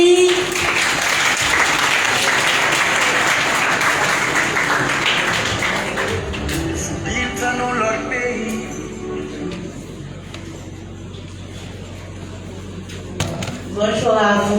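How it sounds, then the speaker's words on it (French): An audience at a youth awards ceremony claps to welcome a violinist, loud sustained applause at first that thins into scattered claps, with a voice speaking over it and a few sharp knocks near the end. "Ah, la violoniste, on l'applaudit."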